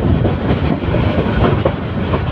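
A train rounds a bend close by near Kuril Bishwa Road in Dhaka, a loud, continuous rumble with faint rhythmic clatter from the wheels.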